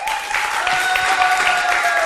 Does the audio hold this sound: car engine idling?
no